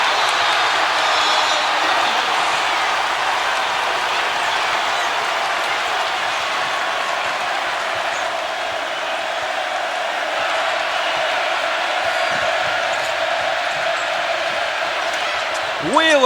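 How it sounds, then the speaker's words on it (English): Loud, sustained roar of a packed basketball arena crowd at a Kentucky vs Texas A&M game, a dense wall of cheering that holds for the whole stretch, with faint sneaker squeaks near the end. "Boy, how about the noise in this crowd? Deafening."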